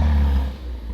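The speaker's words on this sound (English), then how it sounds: "you hear the turbos. That sounds so good." A turbocharged sports car engine idling with a deep low rumble heard from inside the car, loud at first and then easing slightly.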